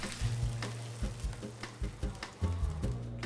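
White wine vinegar sizzles in a frying pan while a Sicilian caponata is being made, a soft hiss broken by several low knocks and scrapes of stirring, with no talking.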